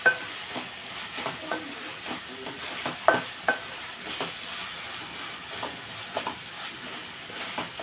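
Masala frying in oil in a pan for chicken curry, a steady sizzle with repeated scraping stir strokes at an irregular rhythm, close and moderately quiet.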